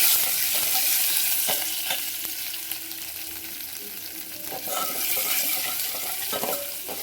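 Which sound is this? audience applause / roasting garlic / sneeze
roasting garlic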